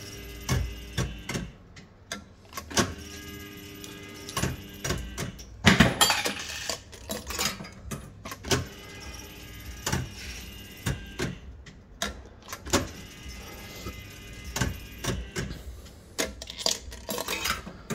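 Coins drop through the coin mech of an Up 'N' Down Nudge fruit machine, making repeated metallic clinks and rattles in irregular bursts. A louder clatter comes near the middle, and more clinking follows steadily.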